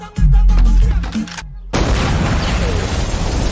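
A grenade explosion thrown under a car bursts in suddenly after a narrator's voice and brief silence, a loud, close, broadband blast that keeps roaring and rumbling for nearly two seconds.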